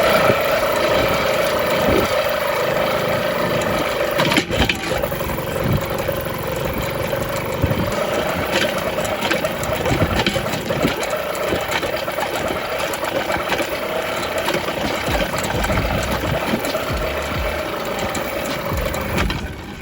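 A gas engine on a motorized bicycle runs steadily, with a buzzing mid-pitched drone and mechanical rattle that continues loud and close the whole time and barely changes.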